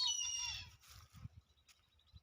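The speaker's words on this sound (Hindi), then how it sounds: "कोई पक्षी आवाज़ कर रहा है" A bird gives a short, high, tonal call near the start, then it falls quiet apart from faint background knocks.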